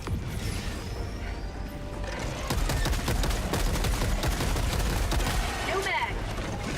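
Automated sentry turret in Helldivers firing in rapid bursts during a bug breach, dense crackling shots over a constant roar of battle, growing louder and steadier after the first couple of seconds.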